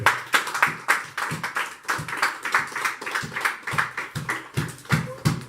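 A church congregation at a Sunday service claps in praise, in a steady, rhythmic beat of roughly two claps per second, close and fairly loud with no talk over it.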